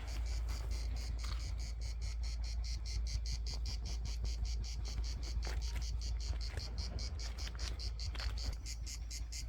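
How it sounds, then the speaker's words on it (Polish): Cicadas chirp steadily in a fast, even pulsing rhythm throughout, loud and close, over a low background rumble with no talking, near a campsite in Promajna. "cykady słychać."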